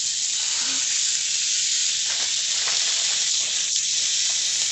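Bacon sizzling in a hot pan, a steady loud hiss running throughout with faint crackles and no talk over it.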